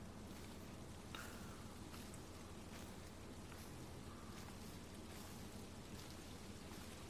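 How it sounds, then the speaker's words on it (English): Steady rain falls outdoors during a climb up a trail, a faint, even hiss of drops that continues without a break and with no voices. "Got the rain coming down again."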